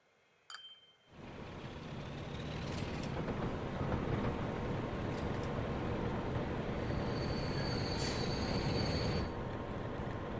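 A video game train rolls in and stops at a station, a steady, loud rumble of wheels and rail noise lasting about nine seconds, with a faint squeal and hiss rising near the end.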